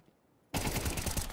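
AK-47 automatic fire in a Counter-Strike match, a sudden loud burst of rapid shots that starts abruptly after a quiet moment and continues without a break.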